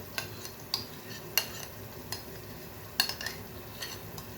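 Onion paste with yogurt being stirred in a pan for Lahori chana, a quiet scrape of spoon against the pan at irregular intervals over a soft, steady sizzle.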